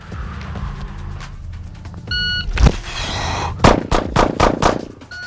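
A shot timer beeps, then five close, loud pistol shots crack in a rapid run during a static B8 defensive shooting drill of five rounds in three seconds.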